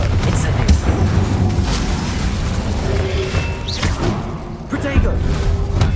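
Confringo and Incendio spells in Hogwarts Legacy explode over a dense backdrop of combat. Heavy thumps, crashes and whooshing bursts come in quick succession, loud and close.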